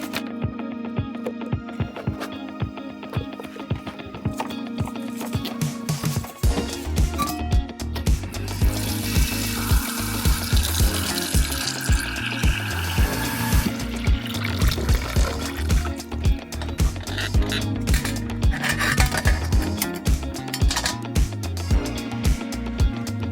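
Drinking water runs through an RO filter into a beer keg, a continuous splashing, gurgling fill that starts lighter and grows fuller and louder after a few seconds, with no voices.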